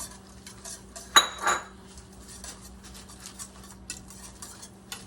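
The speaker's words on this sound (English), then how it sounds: "That's the spinach. Whisk that around." A whisk stirs spinach into a mixture in a bowl, giving a couple of sharp clinks and a brief scraping burst of metal against the dish, followed by quieter faint taps in a calm kitchen.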